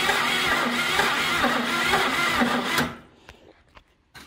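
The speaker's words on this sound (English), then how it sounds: "All right, new battery. Let's see if she cranks." A burnt, abandoned Chevy Nova that sat for 30 years cranks on a fresh battery. The starter churns steadily and loudly for under three seconds, then cuts off, leaving near-quiet with a few faint clicks.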